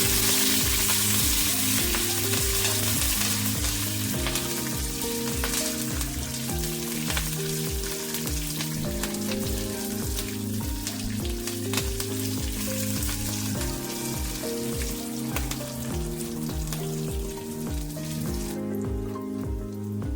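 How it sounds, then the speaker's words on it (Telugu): Green chillies and curry leaves crackle and sizzle in hot oil, steady and close, while rhythmic music with a pulsing beat plays over the frying throughout. "లెట్స్ యాడ్ పచ్చిమిర్చి ఫాలోడ్ బై కర్వేపాకు నేను వీటిని కొంచెం ఫ్రై అవ్వండి"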